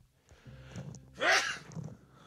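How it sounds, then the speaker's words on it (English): A person's single sneeze, a brief, sharp burst in the middle, preceded by quiet breathy build-up and soft sounds, close to the microphone. "Oh, I got to sneeze."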